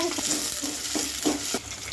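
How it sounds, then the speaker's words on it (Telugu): Onions fry in about four tablespoons of oil with mustard, fenugreek and cumin seeds, a close constant sizzle broken by a few brief scraping stirs of the spoon. "ఆయిల్ ఒక నాలుగు టేబుల్ స్పూన్లు వేసానండి ఇప్పుడు పోపు దినుసులు అన్నీ వేసుకోవాలా ఆవాలు మెంతులు జీలకర్ర వేసుకొని ఇప్పుడు ఉల్లిగడ్డలు రెండు"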